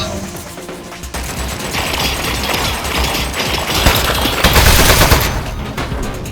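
A turret in the video game Aperture Desk Job fires sustained rapid bursts of loud gunfire that swell in intensity, with a voice talking over the shooting.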